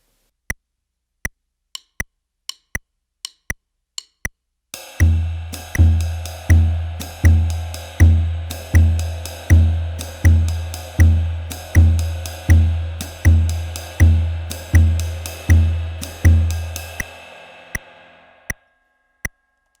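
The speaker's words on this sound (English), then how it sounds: "play that on the bass drum along with our swing ostinato" Sparse metronome ticks lead into a drum kit playing a jazz swing ostinato, with the bass drum hitting the second triplet partial. The pattern of loud, evenly repeating thumps and cymbal wash lasts about twelve seconds, then the lone ticks return.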